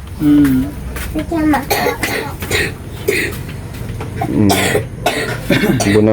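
A young boy coughs repeatedly in short harsh bursts close by, with people talking around and between the coughs.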